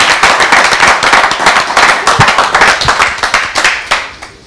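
An audience at a Congolese music awards event claps loudly, a dense crackling burst of applause with distinct sharp hand claps throughout.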